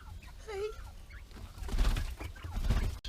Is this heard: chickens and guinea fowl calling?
yes